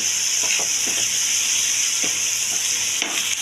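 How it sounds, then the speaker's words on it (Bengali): Onions frying in a pan for a mutton curry give a loud, steady sizzle up close, with a few soft stirring scrapes and no talking. "পেঁয়াজটা ভাজা হোক"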